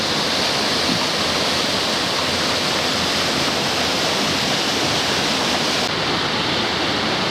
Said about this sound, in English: There's the old lock, sluice gate.